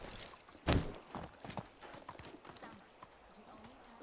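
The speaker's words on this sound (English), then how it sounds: "Get on the horse." A horse gallops in the medieval video game Medieval Dynasty, with one loud hoof strike followed by a steady run of lighter clip-clop beats.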